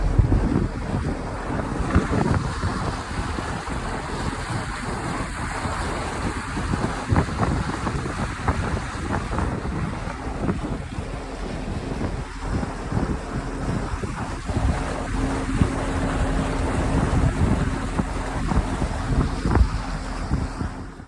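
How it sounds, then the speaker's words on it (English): Strong wind buffets the microphone in a constant roar, with gusty rumbles and water sloshing beneath it, no voices. "A very sunny day, and it was very windy"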